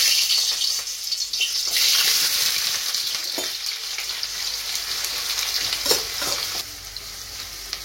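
Onions fry in hot oil for a prawn gravy, a bright continuous sizzle with occasional stirring scrapes, close and loud, easing slightly toward the end, no voices.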